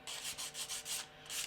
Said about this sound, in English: a quick sanding job just to take out the sprue tabs